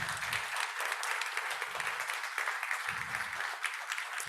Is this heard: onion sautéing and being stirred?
no